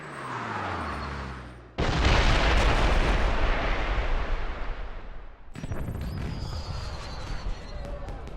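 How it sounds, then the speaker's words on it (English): Fireworks in the video game James Bond 007 Blood Stone burst as a loud, dense roar of explosive crackling and booming, close and sustained, with a shift midway to sharper popping bangs. "Did you know there were going to be fireworks?"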